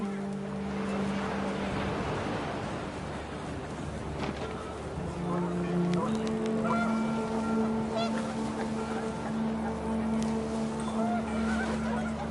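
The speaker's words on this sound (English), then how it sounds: "The wind picked up, and panicked geese appeared and quickly went." Panicked geese honk amid wind and surf-like rushing in the game What Remains of Edith Finch, their calls overlapping in loud, sustained bursts, with a voice murmuring underneath.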